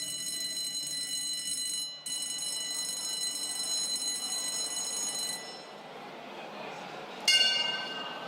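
A ringing bell at a live Muay Thai bout, sounding as sustained bright tonal rings over steady crowd noise and commentary, with a sharp fresh strike near the end.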